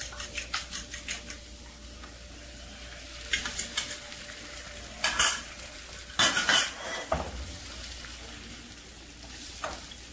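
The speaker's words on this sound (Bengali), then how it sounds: "পেঁয়াজের সঙ্গে ডিম ভালো করে নেড়েচেড়ে মিশিয়ে নেব" A utensil stirs beaten eggs into fried onion in a pan for a stuffed egg paratha, with quiet sizzling under a series of scraping and clinking strokes, a few louder metallic knocks midway.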